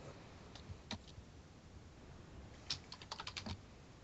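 Computer keyboard typing, faint close key clicks that come as a few scattered taps and then a quick burst of strokes toward the end, against a quiet room with no talk.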